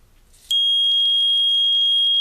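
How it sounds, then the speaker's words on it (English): Primer alarm on a primer feed for ammunition reloading sounds a loud, steady high-pitched electronic tone that starts abruptly and holds continuously, close by. "I'm going to actually empty this out, and then you'll hear the alarm going back on."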